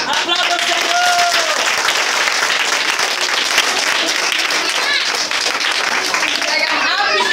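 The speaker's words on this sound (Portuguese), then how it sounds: "aplauda o Senhor" Church congregation applauding during a missionary service, dense continuous clapping filling the room with cheers and voices mixed in throughout.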